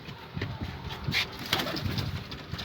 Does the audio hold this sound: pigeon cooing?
yes